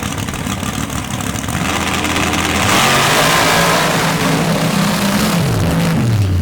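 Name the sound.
Chevy S10 dirt drag truck with 815 cubic inch big-block engine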